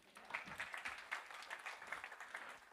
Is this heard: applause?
yes